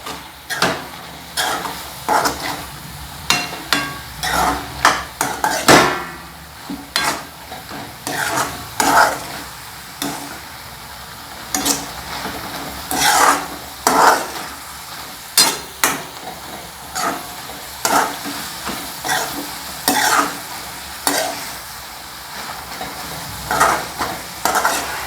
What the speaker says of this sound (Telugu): మొత్తం అంతా ఇలా దొండకాయలకి కలిసేలాగా మసాలాని కలుపుకోవాలండి